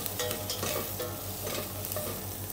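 Beef sautéing in a pan as red wine is poured in to deglaze, giving a steady sizzle with light stirring scrapes and a low background hum.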